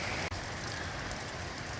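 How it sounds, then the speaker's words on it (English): Steady, dense hiss of heavy rain pouring down close by on a hiking trail at Greenland Gap Nature Preserve, with a brief dropout near the start and no voices. "Can't stay long, it's pouring now though"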